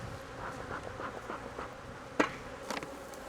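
Honeybees buzz steadily around an open hive while frames are set back in place during an inspection in California, with a soft, continuous hum, two sharper knocks from the woodwork and no voices.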